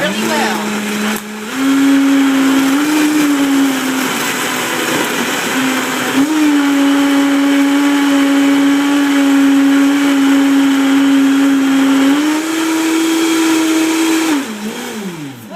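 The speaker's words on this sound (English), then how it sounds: "just turn your blender on. This is going to get loud for just a minute" A blender runs loud and close, blending a healthy smoothie; the motor drones steadily with a couple of pitch shifts as the load changes, then winds down at the end, with no talking over it.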